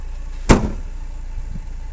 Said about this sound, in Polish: Czy zmienił się dźwięk opuszczania klapy?